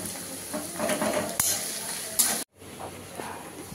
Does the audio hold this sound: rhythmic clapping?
no